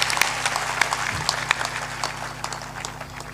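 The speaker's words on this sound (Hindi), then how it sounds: "ताली बजाकर उनका अभिनंदन करें।" An audience at a spiritual discourse event applauds to welcome a visiting member of parliament, giving a steady, distant, crowd-wide patter of clapping with no talking.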